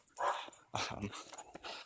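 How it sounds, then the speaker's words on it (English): A dog makes short whimpering, yelping sounds in a few bursts, fairly close, with some background noise between them. "There's the doggy again."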